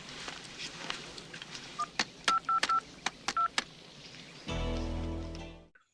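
Telephone keypad dialing tones: a quick series of short, clear beeps in an uneven rhythm, followed by a longer buzzing tone near the end, with no talking.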